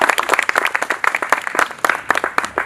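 Loud audience clapping at a business meeting in Surat, sharp dense claps in quick irregular bursts from a nearby crowd, continuing throughout.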